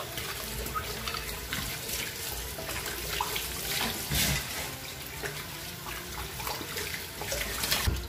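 Water runs steadily from a kitchen tap while couscous ingredients are rinsed, a continuous close splashing hiss with small clatters, and no voices.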